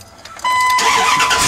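A Dodge Ram pickup truck engine cranks and catches after a no-start fault, a sudden loud start at close range that settles into a steady running roar.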